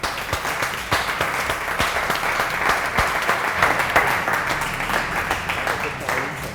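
A live audience applauds a pastry chef's entrance, a dense, steady wash of many hands clapping close and loud throughout, with a voice faintly underneath.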